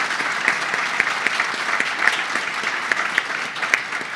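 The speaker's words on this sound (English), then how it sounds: "Can we give Scott a round of applause" An audience at a government awards ceremony applauds steadily, with sustained clapping from many hands and a few sharper individual claps standing out.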